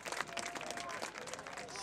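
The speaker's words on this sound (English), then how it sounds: "he'll come off to a nice round of applause" Spectators at a boys' high school lacrosse section final applaud in a dense, crowd-wide clatter, while an announcer talks over the clapping.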